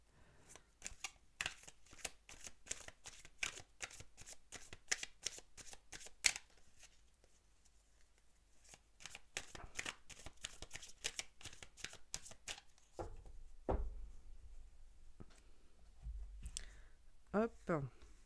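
Tarot cards are shuffled in quick, crisp riffling bursts at close range, pausing briefly before a few more shuffles and soft handling sounds.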